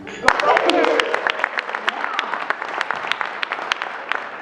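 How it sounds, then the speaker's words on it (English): An audience at a conference cheers and applauds for Golden Gopher athletics, starting with a loud burst of whoops and clapping that thins into scattered, sharp individual claps. "Can we hear a cheer for Golden Gopher athletics?"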